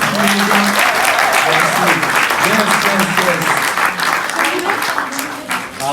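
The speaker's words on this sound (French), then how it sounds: "merci Loreno, on peut l'applaudir encore." Church congregation at a family service applauding warmly, loud continuous clapping across the whole span with voices audible under it.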